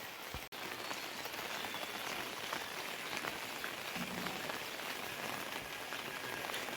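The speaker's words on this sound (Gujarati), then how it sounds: "વરસાદ બંધ થવાનું નામ નહીં લેતો" Heavy rain pouring without letup, a dense, steady hiss of drops striking surfaces that holds at an even level throughout, with no talking.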